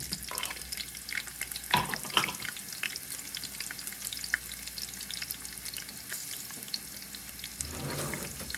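Onion and garlic sizzle steadily in a frying pan, a soft, even crackle with occasional stirring clinks, fairly faint and close, with no talk.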